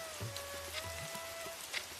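Steady rain falls on a surface in an even, moderate hiss, with a faint tone and a few soft low thumps underneath, no voices.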